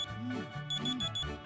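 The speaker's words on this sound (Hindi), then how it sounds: "तो मेरा अलार्म दोबारा बजा।" An alarm clock rings in Srinagar at dawn, a repeating electronic chime pattern with bright beeping tones, clear and close.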